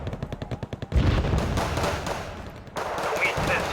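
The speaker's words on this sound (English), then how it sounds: "Love the autocannons. They can shred these artillery units easily." Autocannons fire in the Wargame: Red Dragon strategy game, a rapid rhythmic burst of shots at the start followed by dense heavy booming and rumbling explosions, with a voice talking over part of it.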